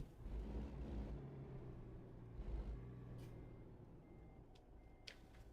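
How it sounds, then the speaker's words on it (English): A truck reverses with its backup beeper in American Truck Simulator, heard faintly under low engine rumble and road noise, with no voices. "I hear beeping. Oh, it stopped. I'm like, someone's in reverse."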